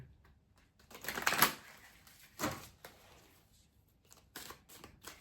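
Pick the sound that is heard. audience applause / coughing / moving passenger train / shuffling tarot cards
shuffling tarot cards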